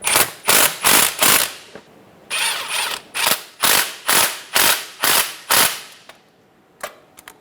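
Ratchet snugging down screws on a Nissan Altima CV axle, a run of quick rapid clicking bursts with short pauses between, close and fairly loud, ending in a couple of faint taps.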